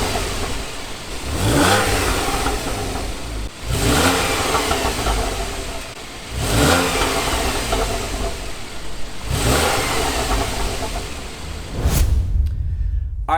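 A 2015 Porsche 911 (991.1) with the factory stock exhaust is revved up close from idle to about 4,000 RPM, four loud blips rising and falling, ending in a sudden cutoff.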